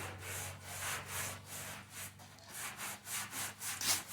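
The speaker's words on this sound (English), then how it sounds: "So we'll go back to some sandpaper and work on that." Sandpaper rubs back and forth over chipped paint on a Foxbody Mustang frame in quiet, regular strokes, roughly two per second, with a faint low hum underneath.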